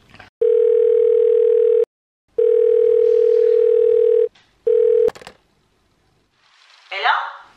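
A steady telephone dial tone sounds loud and close in three stretches broken by short silent gaps, as if the line is being opened for a call, followed by a brief rustling burst.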